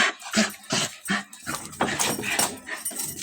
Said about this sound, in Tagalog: grabe talaga tong aso na to. Napaka-hyper.